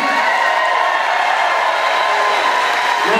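Dancing with the Stars studio audience cheering, whooping and applauding continuously, a loud, dense wash of crowd noise throughout with no pause.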